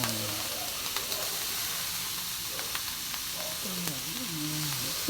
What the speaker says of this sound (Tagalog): Then, ihalo na po natin yung gulay.